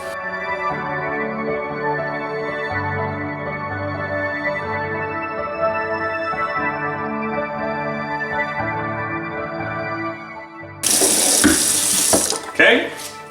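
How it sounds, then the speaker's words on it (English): Tap water runs steadily into a glass carboy being cleaned, a continuous rushing pour that holds for about ten seconds before turning into louder, brighter splashing and gurgling as the vessel fills. "So let me put a little more water in here."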